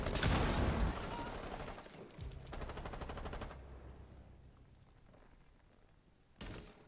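Pistol gunfire in a shooter video game, loud rapid volleys of shots up front that trail off into quieter firing, with one more sharp burst at the end.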